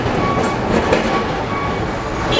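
An old tram in Egypt rolls along its rails, a steady loud rumble of wheels and carriage noise throughout, with faint clatter on top and no clear talk.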